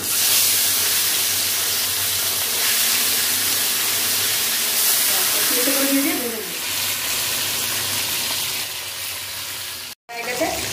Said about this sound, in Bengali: এখন এক একটা করে ভোলা মাছগুলো ভেজে নেব।